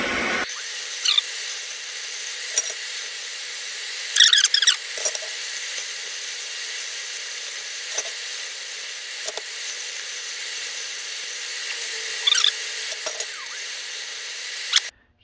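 Steady hissing, crackling arc from a Lincoln welder in a workshop with a fume extractor running, continuous and close, broken by occasional brief pops and sputters.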